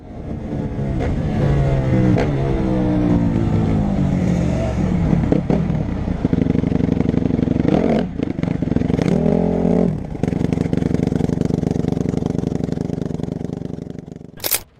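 An ATV engine revs loudly and close during a police chase, rising and falling in pitch through repeated accelerations, with clattering and mechanical noise throughout.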